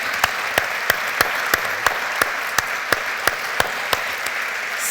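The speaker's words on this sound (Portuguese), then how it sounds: "Peço-vos desde já uma salva de palmas para os nossos convidados" An audience at a literary evening in Beja applauds its guests with steady, dense clapping. Regular sharp ticks repeat evenly through the applause, and no one speaks.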